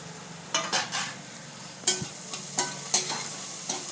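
Chopped green chillies fry and sizzle in a pan for chicken chilli, with several scraping stirs of a spatula punctuating the steady hiss at close range.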